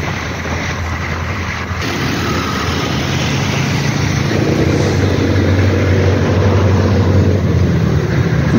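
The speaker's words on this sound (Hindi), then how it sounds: "बैक व्हील में हब मोटर लगा के इसको इलेक्ट्रिक किया, तो अभी बैक व्हील से चल रही है" A hybrid car running on a 2000W BLDC hub motor in its back wheel, the front-wheel engine switched off, rolls through city traffic in Pakistan with a steady, loud road and motor rumble and wind noise throughout.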